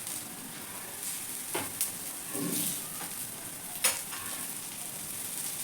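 Brinjal slices frying on a tava over high flame, a soft continuous sizzle with a few brief stirring or scraping touches, with no talk.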